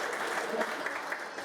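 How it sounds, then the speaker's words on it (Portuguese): Children and congregation applaud at a church conference in Ibaraki, Japan, with steady, moderately faint clapping from a crowd filling the hall for the whole moment. "Vamos aplaudir a Jesus mais forte pela vida de cada criança."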